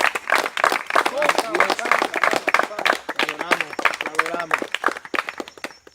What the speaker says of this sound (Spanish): Y ríndale un aplauso al Señor